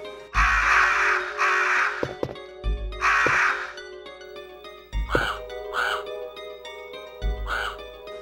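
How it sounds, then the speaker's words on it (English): Crows in the video game Resident Evil give loud, harsh caws, first in drawn-out groups and then in shorter clipped calls, heard alone with quiet gaps between them. "Speaking of crows,"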